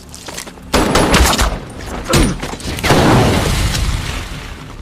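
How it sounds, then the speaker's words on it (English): A burst of gunfire exchange: rapid overlapping shots and heavy bangs crowd together, loud and close, with brief lulls between volleys. "The robbers start firing. The cops return fire."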